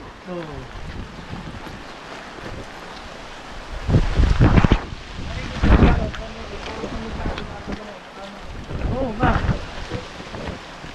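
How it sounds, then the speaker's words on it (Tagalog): Heavy typhoon gusts roar against the microphone in surges in San Fernando, Sorsogon, Philippines, with low rumbling bursts like thunder and some voices nearby. "Inabutan pa kami ng bagyo."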